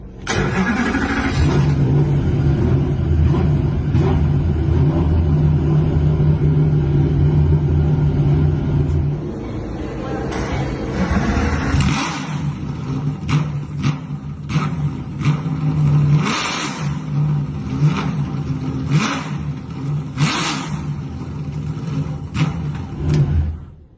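BMW M3 GTR race car engine turning over and catching, then a loud, rough idle with sharp repeated revs blipping up and settling, close by and heard alone.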